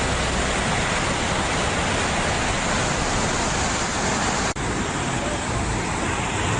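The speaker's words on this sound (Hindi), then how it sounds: "चारों तरफ से प्रचंड रफ्तार से लहरें बह रही" Floodwater racing past a temple in Gujarat, a dense, loud and unbroken roar of rushing water that stays steady throughout with one brief dip.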